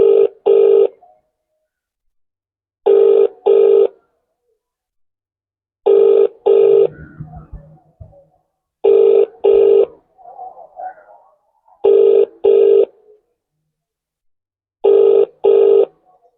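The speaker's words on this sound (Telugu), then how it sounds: "ఆయనకి ఫోన్ చేస్తున్నాను." A phone call rings out as regular double-burst ringback tones, each pair about three seconds apart, loud and clear, with faint background noise between the rings.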